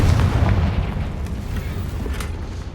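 A heavy, booming explosion from the Confringo fire spell in Hogwarts Legacy fills the whole moment with a dense, rumbling roar that slowly fades.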